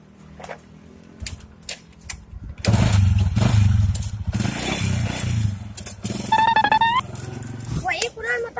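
A motorcycle engine starts and runs loud and close in a rough, clattering idle that revs up, with people talking over it and a brief whine near the end.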